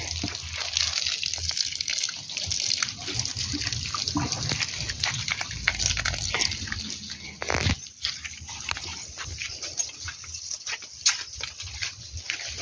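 Water splashing and trickling steadily onto garden plants, including young seedlings and chicory, close by and fairly loud throughout, with a brief louder gush partway through.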